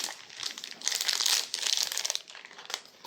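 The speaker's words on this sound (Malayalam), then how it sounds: "ഇത് ഞാൻ കാത്തിരുന്ന് അൺബോക്സ് ചെയ്യാം" Plastic wrapping crinkles and rustles loudly up close as a package of pink school shopping items is unboxed, a continuous busy crackle that swells and eases over a few seconds.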